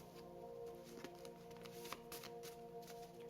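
A deck of cards being shuffled by hand at close range, quiet riffling and soft flicking patters with a few sharper snaps, no talk.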